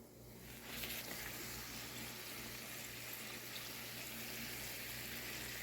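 Colourful puris fry in hot oil, giving a steady, even sizzle that holds on without a break.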